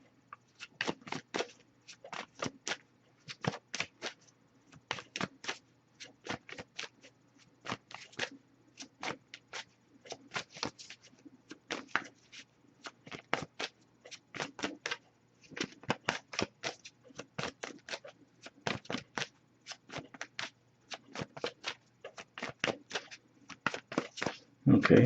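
Cards shuffle in quick repeated riffles and flicks, short crisp bursts coming in irregular clusters close by, with short pauses between rounds.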